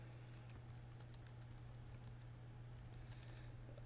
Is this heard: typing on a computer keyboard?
yes